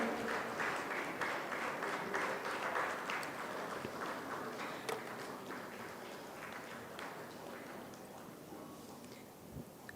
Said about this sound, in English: Ladies and gentlemen, let's applaud.